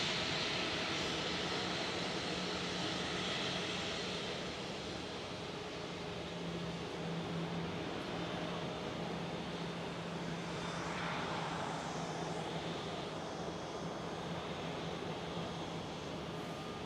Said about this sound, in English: There goes the 737 taxiing out.